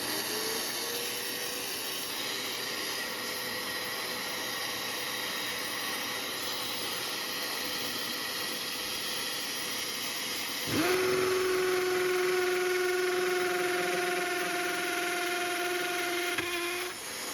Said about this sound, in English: I'm gonna turn this on, I'm gonna drill the hole